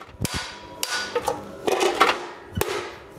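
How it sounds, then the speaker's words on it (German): Sharp metallic hammer blows ring out irregularly as red-hot metal is forged into an Allgäu cowbell, several strikes with short gaps between them, close and fairly loud, with no voices. "Beim Schmieden mit dem Hammer im glühenden Zustand"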